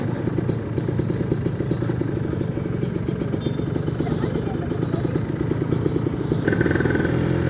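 A motorcycle engine runs at a Sunday morning ride gathering at Kambang Iwak, Palembang, a steady clattering mid-pitched idle close by, with faint traffic noise around it.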